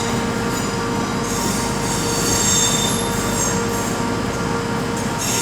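A train departing Birmingham New Street station on the West Coast Main Line, its wheels squealing loudly and steadily over a continuous close rail rumble, with thin high squeal tones drifting in and out.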